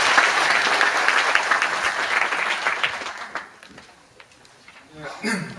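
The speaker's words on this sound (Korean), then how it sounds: "큰 박수 부탁드리겠습니다" Audience applause at a National Assembly policy forum on fire service reform, brisk clapping that fades out after about three seconds, followed by a voice beginning to speak.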